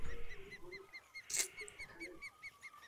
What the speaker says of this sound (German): Der Vogel geht mir so auf den Sack hier im Hintergrund